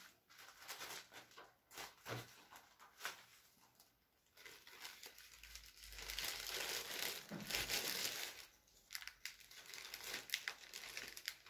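A plastic bag crinkles and rustles close by in repeated bursts around potted Kohleria plants, growing louder and more continuous midway before easing off into intermittent crackles.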